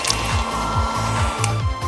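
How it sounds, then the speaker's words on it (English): A hairdryer blows steadily on marshmallows to melt them into chocolate, a continuous close whoosh with a low rhythmic pulsing throughout. "Just get this hairdryer and melt these bad boys into chocolate perfection!"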